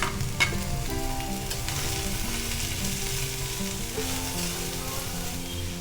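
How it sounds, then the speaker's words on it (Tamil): Capsicum and spring onion sautéing in a hot pan, a close, continuous sizzle with stirring clatter and an occasional sharp tap of a utensil, no voices over it. "இப்போ குடமிளகாலாம் வதங்கட்டும்."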